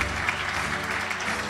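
Steady applause from a graduation ceremony audience, dense and continuous at moderate loudness, with no clear voices standing out.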